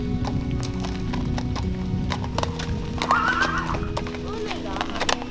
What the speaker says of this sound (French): des chevaux très calmes